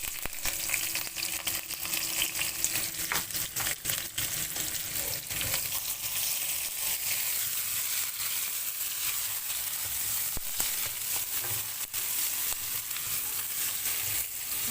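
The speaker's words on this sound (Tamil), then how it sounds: "இப்போ எண்ணெய் ஊற்றிருக்கேன் தேவையான அளவு வெந்தயம் போடுறேன் வெங்காயம்" Fenugreek seeds and onions frying in oil in a pan, a steady close crackling sizzle with scattered pops and light stirring sounds throughout.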